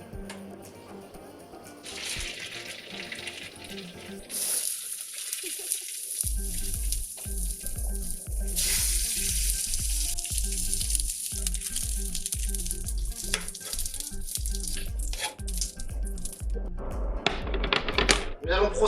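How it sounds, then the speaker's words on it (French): Scallops searing in olive oil in a hot pan beside lobster finishing its cooking, a steady close sizzle and crackle that swells after a brief lull, with occasional utensil knocks and talk over it. "Nous allons donc cuire les Saint-Jacques maintenant à l'unilatéral avec un peu d'huile d'olive"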